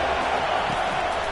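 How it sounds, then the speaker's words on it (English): A home crowd in a video game football match roars with a broad, steady wash of cheering and crowd noise, sustained and fairly loud throughout. "how nice is it to have the home crowd going absolutely bananas?"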